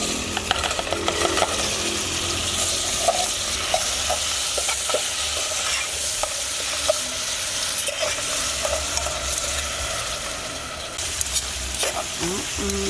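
Saltfish sizzles steadily in a hot pan for ackee and saltfish, with frequent scrapes and clinks of stirring throughout, close and continuous.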